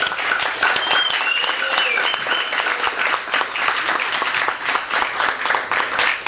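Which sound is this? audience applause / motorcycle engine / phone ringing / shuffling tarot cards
audience applause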